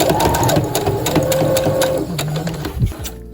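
A sewing machine stitches elastic onto vintage Barbie doll clothes, a close, rapid rhythmic needle chatter with brief speed changes and a slowdown toward the end, heard alone.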